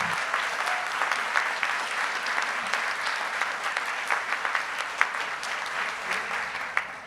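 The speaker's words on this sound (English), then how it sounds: "let's give her a round of applause" An audience at a college foundation celebration applauds in a sustained, even wash of clapping with a few sharper individual claps, loud and continuous throughout.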